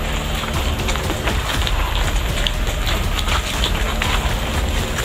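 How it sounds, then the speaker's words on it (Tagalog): Heavy rain pours steadily, a dense hiss with scattered drops hitting nearby surfaces, loud and unbroken throughout. "Kasi basa po kami. Malakas ang ulan."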